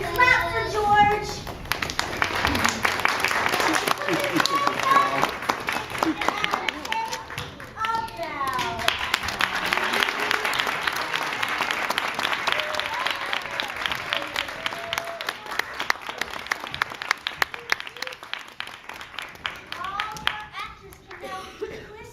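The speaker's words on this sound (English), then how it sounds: "they clap for George." Children clap along during a storytime reading of a picture book about a kind giant. Scattered, lively clapping from a small group goes on throughout, mixed with children's voices and an adult talking, in a room-sized space.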